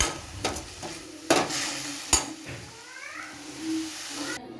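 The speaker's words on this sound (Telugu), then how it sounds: "ఇంకొద్దిసేపు వేగితే సరిపోతుంది" Mint chutney ingredients fry in a pan, with a soft steady sizzle broken by a few sharp scraping stirs and clinks near the start and middle.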